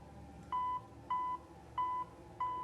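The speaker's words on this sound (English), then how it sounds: "Can you make our toy beep again, Eddie?" A toy sitting on a table during a ghost-hunting investigation gives four short, evenly spaced electronic beeps, clear and alone against a quiet room.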